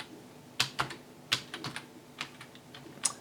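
Typing on a computer keyboard, a few quick clusters of crisp clicking keystrokes with brief pauses between them, close and fairly quiet, with no talking.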